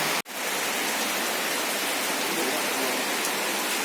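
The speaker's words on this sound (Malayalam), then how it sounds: "മഴ മഴ" Steady heavy rain pours down continuously, a dense even hiss around a vehicle traveling on a tiller service trip near Thamarassery, Kerala, with one brief dropout near the start.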